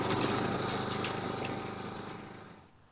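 A STIHL RM 655 VS gas walk-behind lawn mower runs at a steady, droning pitch that fades away near the end. No voices are heard.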